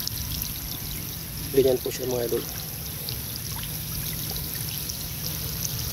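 Water from a rain hose sprinkles over dry watermelon plants and runs into a furrow, a faint steady trickle and patter in the open field while someone talks briefly over it.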